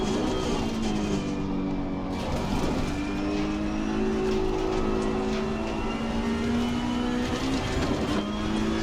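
Race car engine from the Assetto Corsa Competizione sim, a loud, close, continuous roar that climbs and shifts pitch through gear changes, with a steady strained whine and no talk.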